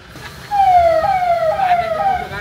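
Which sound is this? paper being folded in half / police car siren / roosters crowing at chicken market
police car siren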